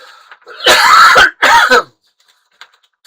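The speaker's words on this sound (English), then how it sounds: "I'm going to cough, excuse me." Two loud, harsh coughs close to the microphone, the first longer than the second, followed by near silence and a few small clicks.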